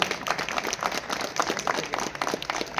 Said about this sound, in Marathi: या सगळ्या आपल्या मैत्रिणींसाठी जोरदार टाळ्या व्हायला पाहिजेत